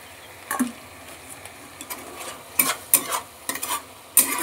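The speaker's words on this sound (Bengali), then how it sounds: "এবার আবার একটু নেড়ে নিচ্ছি।" A spatula stirs prawn curry with mustard and poppy seed paste in a frying pan, giving several scraping strokes over a soft sizzle, close and fairly loud, with no talk.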